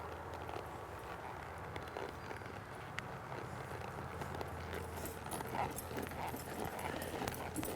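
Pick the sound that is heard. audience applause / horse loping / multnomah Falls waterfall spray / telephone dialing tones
horse loping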